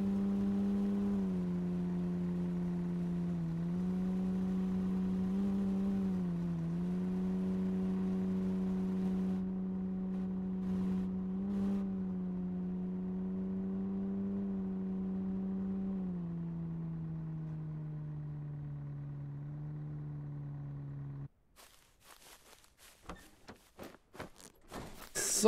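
Car engine in the zombie survival video game No One Survived, a sustained, even drone that rises and falls slightly in pitch as it drives, then cuts out into a few scattered clunks and knocks at the end.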